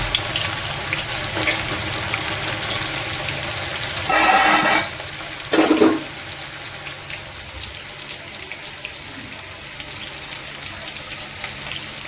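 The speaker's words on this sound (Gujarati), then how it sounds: "હવે આપણે બીજા એમાં તળી લઈશું." Samosas deep-frying in hot oil, a steady bubbling sizzle throughout with two louder bursts of frying noise partway through; no one speaks.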